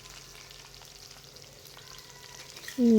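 Potatoes hit a hot pan and fry with a soft, continuous hiss, quiet and close, until a sudden loud burst of sound cuts in at the very end.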